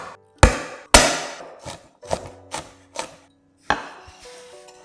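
Garlic cloves are chopped on a board with a knife, giving six or seven sharp, close thwacks at an uneven pace, each with a short ringing tail and no talk.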